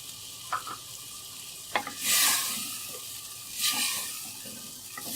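Tomatoes go into mutton cooking in a pot for palak gosht, a spinach mutton curry, giving a close sizzle and frying hiss with scraping stirs and two louder bursts of sizzling, and no talk.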